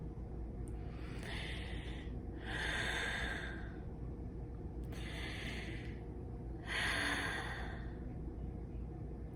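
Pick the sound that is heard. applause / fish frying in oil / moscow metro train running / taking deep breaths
taking deep breaths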